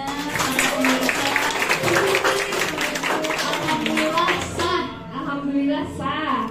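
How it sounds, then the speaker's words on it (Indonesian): Guests at a traditional Sundanese wedding ceremony clap their hands, rapid claps running under lively talk and children's voices before tapering off as speech takes over. "Boleh tepuk tangannya para pemirsa"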